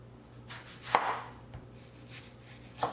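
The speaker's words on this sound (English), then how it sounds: "And then cut up our mango as well." A knife chops through a mango on a cutting board, making a few soft, distinct cuts with a sharp tap near the start and another near the end, quiet and close with no talking.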